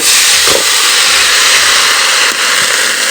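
Leafy greens hit a hot kadai in a home kitchen, giving a loud, continuous broadband sizzle and hiss that fills the whole clip, close up, with faint clatter and no voices.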